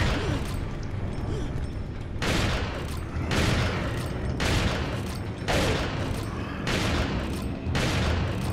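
Gunshots fired in the video game Resident Evil 4, loud repeated blasts spaced about a second apart over a constant dense game soundscape, each shot a sharp broadband burst with a rumbling tail.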